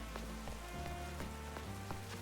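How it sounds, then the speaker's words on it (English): Rain falls in a Pokémon video game as a quiet, steady patter with scattered soft drop ticks over a low ambient game drone. "Also, it's raining."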